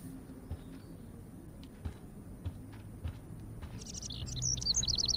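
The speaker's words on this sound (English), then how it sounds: "can you help me get this bird out of here?" Small bird chirping indoors in the game Life is Strange, a cluster of bright, rapid tweets rising near the end over a low ambient hum, with a few faint clicks earlier.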